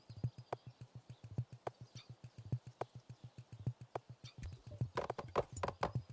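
Steady clip-clop of horse hooves in the video game Cricket Through The Ages, a fast, even rhythm of close hoofbeats with some brighter clattering and busier game sounds near the end.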